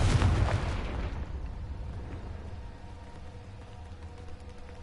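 A Confringo blasting spell explodes in Hogwarts Legacy: a loud, booming burst at the start that decays into a long rumbling tail, with no talk over it.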